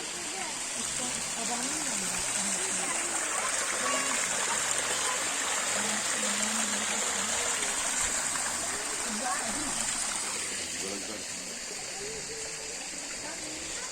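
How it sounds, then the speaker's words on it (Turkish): Damla Creek near Yerkesik in Muğla flowing steadily, a close, continuous rushing babble of water over stones, with someone talking over it in places. "Bundan sonrasında tabii bu dere devam ediyor."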